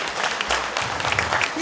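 Audience applause at a charity concert as guests and the town mayor are invited onto the stage: a steady, dense crowd clapping for under two seconds, with voices mixed into it.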